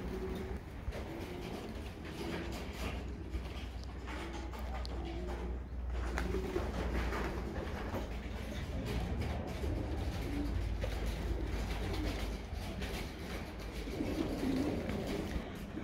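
Racing pigeons at a loft on a bright, warm afternoon, giving low, soft coos and murmurs through the clip under a steady outdoor hum, with a voice talking nearby.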